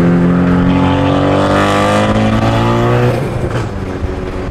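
Ford Focus ST fitted with a big turbo and its blow-off valve removed, running loud with a steady droning engine note full of strong harmonics that eases off and quiets after about three seconds.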